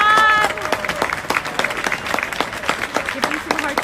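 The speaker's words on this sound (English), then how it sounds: "Please give them a big round of applause." Audience clapping for a millennial panel at a company event, a string of distinct claps over a voice at the start, settling into scattered, uneven applause.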